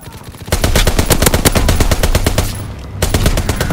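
Fighter aircraft strafing run in Call of Duty: WWII, a loud rapid burst of machine-gun fire that rattles on, dips briefly and then resumes.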